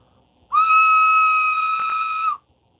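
A single steady, shrill whistle tone held for about two seconds, loud and close, with a slight wavering near the end.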